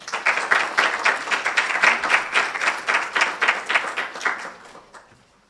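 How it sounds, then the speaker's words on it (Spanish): Steady applause from an audience at a neuroscience course, dense and even for about five seconds before tapering off, greeting a speaker as he takes the floor. "Un aplauso para él."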